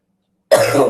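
A single harsh cough bursts out loud and close after a stretch of silence, trailing into a rough throat-clearing sound.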